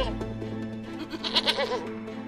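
A goat up a tall palm tree lets out a few short, wavering bleats midway through, close and fairly loud over a steady musical background.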